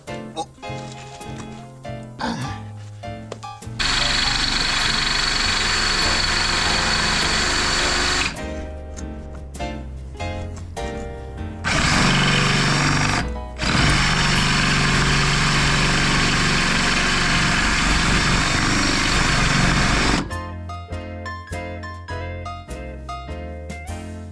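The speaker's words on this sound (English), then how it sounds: "I might have to try and drill the head off." A power drill whines at a steady pitch for long stretches, drilling the head off a screw, with pauses and short bursts of rattling and clicking between runs, close and loud.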